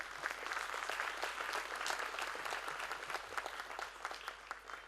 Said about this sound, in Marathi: आपण एकदा जोरदार टाळ्या देऊया